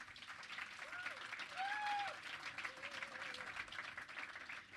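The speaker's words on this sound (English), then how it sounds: "I just want to ask you to applause to these people" Audience applause for startup founders at a Startup World Cup Benelux regional event, a steady wash of clapping throughout with whistles and cheering voices rising over it.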